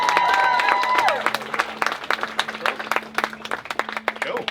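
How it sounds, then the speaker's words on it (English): Wedding ceremony guests clapping, broadband applause that starts under a lingering tone, then thins into scattered individual claps with a sustained hum beneath. "Let's have a massive round of applause to show our love and"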